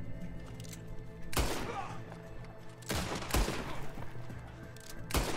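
Gunfire from the video game Red Dead Redemption 2, with several loud, sharp shots spaced a second or more apart over steady background game ambience.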